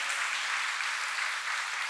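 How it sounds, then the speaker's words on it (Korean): A church congregation applauds together in a steady, even wash of clapping from many hands at a moderate distance, with no talking over it. "여러분 박수 한번 해주시면 감사했고요"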